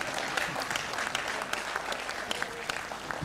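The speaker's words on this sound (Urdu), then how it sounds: "میں نے پڑھ لیا تو تالی بجا سکتے ہیں آپ" Steady audience clapping at a live Urdu poetry mushaira in Jaipur, a dense continuous patter of many hands throughout, moderately distant with no single voice standing out.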